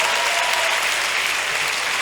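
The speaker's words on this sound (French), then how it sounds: "on applaudit tous ensemble" Audience at a live comedy show in Congo applauding together, a dense, continuous clapping that stays loud and even for the whole stretch.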